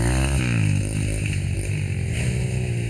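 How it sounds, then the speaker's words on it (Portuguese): Motorcycles roar along a trail through the forest, a loud, steady engine drone with shifting revs that stays close throughout. "Quando ouvem o ronco das motos no meio da floresta"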